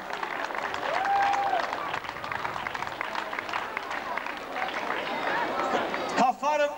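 An audience applauds at a school last-bell ceremony, a sustained wash of clapping lasting several seconds, with a brief voice at the end.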